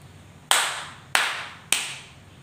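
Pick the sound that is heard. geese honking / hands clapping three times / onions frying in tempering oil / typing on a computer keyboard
hands clapping three times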